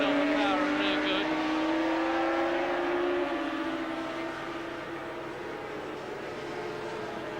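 Grand Prix racing motorcycles howl past on a circuit during a 28-lap race. Their high engine notes shift in pitch as they go by, loud at first, then easing slightly as they pull away.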